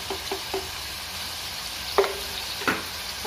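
Minced meat pieces frying in a pan for a Bonalu festival dish, a steady low sizzle with a few sharp clacks of a spoon stirring against the pan, with no voices.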